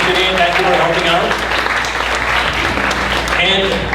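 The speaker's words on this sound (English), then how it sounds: "a big round of applause" Sustained audience applause fills a talent show venue, a steady, dense wash of clapping with faint voices mixed in, holding loud and even throughout.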